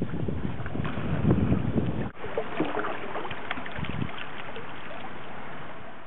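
Strong wind from the north buffets the microphone in a continuous roar over water sloshing on a strong current; one brief dropout midway.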